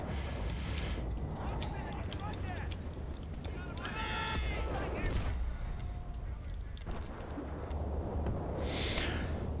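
Rapid gunfire on the Valparaiso map in Battlefield Bad Company 2, a string of quick cracking shots and bursts scattered through a busy, fairly quiet battle soundscape.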